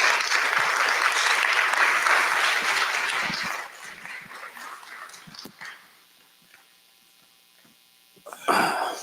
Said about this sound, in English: let's give a round of applause to Mr.